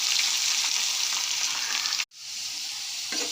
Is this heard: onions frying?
yes